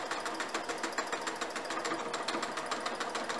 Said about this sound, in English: sew your pairs together